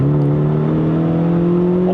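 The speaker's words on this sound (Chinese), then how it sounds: "有一点小 VTEC 的声音嘞" A Honda Fit RS (GK5, six-speed manual) engine revs high on a mountain run, with a loud steady buzzing drone that climbs slightly in pitch, close and continuous, with no talk.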